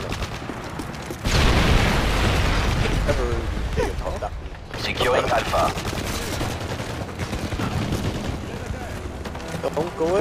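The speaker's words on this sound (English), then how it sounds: "the guy right here is throwing grenades over here" Dense game combat in Modern Warfare 3 online Domination on the Resistance map: heavy booming blasts and rattling gunfire roll continuously, loud and close, with a player talking over the noise.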